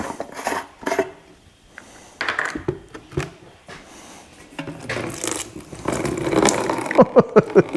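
Water and crud are tipped out of an old generator's tank, irregular splashing, sloshing and scraping bursts, some faint and some louder, ending in a run of quick knocks and drips.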